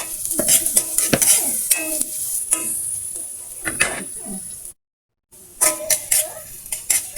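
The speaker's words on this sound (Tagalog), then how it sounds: "Igigisa lang natin hanggang sa lalabas ang kanyang aroma. Hanggang sa mag-brown yung ating garlic." Garlic and onion sautéing in a pan for chicken sinigang, a bright crackling sizzle with frequent spatula clatters and scrapes against the pan, broken by a brief silent gap before the stirring resumes.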